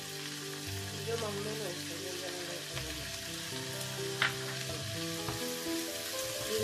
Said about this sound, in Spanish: 2 minutos que se sofríe todo junto